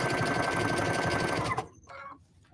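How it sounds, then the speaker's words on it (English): A sewing machine runs a zigzag stitch through felt on a hexagon candle mat, a steady fast whirring chatter that stops abruptly near the end, followed by faint handling noise. "And I'm going to now do a zigzag stitch."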